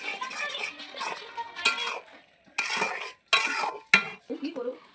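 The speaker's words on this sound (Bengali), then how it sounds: "দেখো আমি এবার কড়াইয়ে বসিয়েছি ম্যাগি সেদ্ধ হতে।" Maggi noodles are stirred in a metal wok (kadai), with repeated scraping and clinking of a utensil against the pan in uneven strokes over a faint sizzle.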